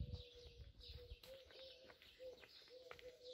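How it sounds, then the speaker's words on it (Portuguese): Small birds chirp faintly outdoors in Belmonte, Portugal, giving a string of short, repeated calls at a distance over a quiet background. "barulhinho de passarinho"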